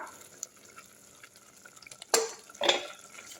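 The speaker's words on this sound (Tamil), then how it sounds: "இப்போ கொதி வந்துருச்சு நல்லா கலக்கி விட்டுடலாம்" Stirring a boiling pot of pea vada curry, with quiet bubbling and drips followed by two distinct louder scrapes and clinks of a spoon against the pot.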